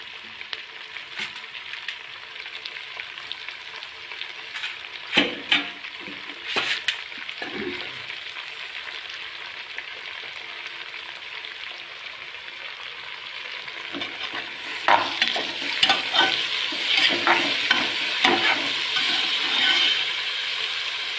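Chopped fenugreek leaves fry in a pan with a constant close sizzle. Bursts of scraping and clattering stirring come midway and again near the end, and no one speaks.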